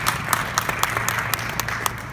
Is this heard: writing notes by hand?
no